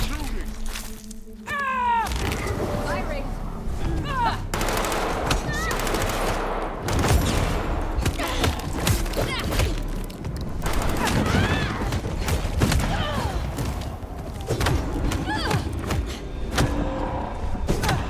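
Rapid bursts of gunfire and volleys of shots ring out in the Vampire the Masquerade Bloodlines video game, crowded together with in-game voices talking over the shooting.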